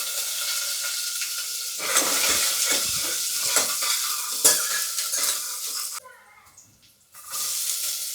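Mustard seeds, cumin, curry leaves, plenty of garlic and a green chili hit hot oil in a pan, giving a bright crackling sizzle with stirring and clinks of utensil on pot, then a brief drop to near quiet before the frying resumes.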